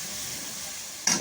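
A sudden burst of frying sizzle as tadka tempering hits hot oil for boiled lobia dal, a bright hiss flaring up near the end after a steady low kitchen background.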